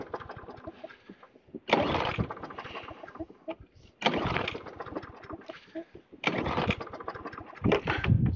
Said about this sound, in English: and then we're going to pull the cord